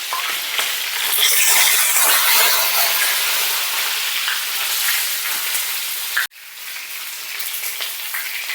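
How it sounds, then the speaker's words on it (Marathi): Food sautéing in hot oil for a mildly spiced home-cooked dish makes a loud, dense, steady sizzle. It cuts out sharply for a moment near the end, then resumes a little quieter. "तेलामध्ये छान असं थोडंसं परतून घेऊया"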